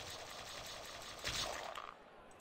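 Sewing up a wound in the video game Boxing Surgery Simulator 2000: a dense, steady buzzing stitch sound lasting about two seconds, swelling briefly before fading.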